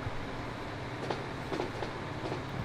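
A Class 156 Sprinter diesel multiple unit running in Transport Fever, a steady low rumble with rhythmic wheel clicks and clacks over rail joints, moderately near and without speech.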